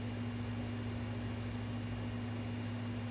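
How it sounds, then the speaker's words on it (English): Crickets chirping somewhere outside, a faint, steady high trill over a low background hum with no voices. "I can actually hear the crickets."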